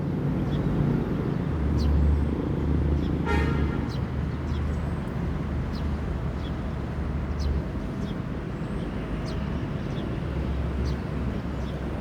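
A Sinar Jaya intercity bus with a Jetbus 5 body on an Inno chassis, route Palembang–Jogja, stands idling at a terminal, its steady low engine rumble continuous and close amid ambient traffic noise.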